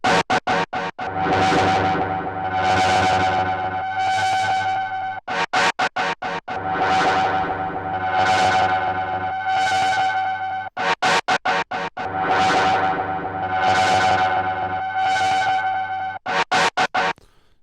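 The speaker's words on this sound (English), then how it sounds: "there's different types of distortion here" Shaperbox 3 distortion plugin processing a synth tone: loud, buzzing chopped bursts in a stuttering rhythm, with short gated notes between longer swelling distorted chords, repeating in a loop.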